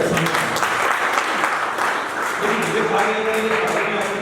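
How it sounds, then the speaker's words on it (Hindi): Sustained applause from a crowd, dense and steady throughout, with some faint voices mixed in. "दोनों ही वक्ताओं ने बहुत अच्छे तरीके से आप तालियां बजा गए"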